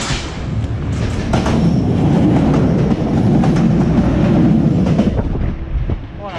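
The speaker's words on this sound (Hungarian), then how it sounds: "És jön a vonat." A train rushes past close by a hiking trail in the Királyerdő mountains of Transylvania, a loud rumbling clatter mixed with wind buffeting the microphone that swells and then eases off.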